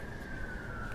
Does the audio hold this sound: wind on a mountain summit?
no